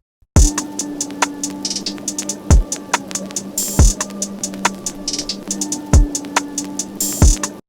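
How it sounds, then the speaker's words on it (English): Lo-fi texture layer of constant crackly static noise with a low hum, laid under a slow beat of deep kick thumps and bright hits, steady and fairly loud throughout. "We have our lo-fi texture."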